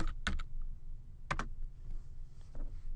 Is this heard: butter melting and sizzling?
no